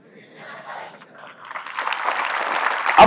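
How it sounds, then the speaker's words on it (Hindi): Applause at a Hindi poetry recitation swells from faint scattered claps into a fuller round, with a voice speaking early on and a sharp thump at the end. "अब तालियां और घनघोर होती जाएंगी"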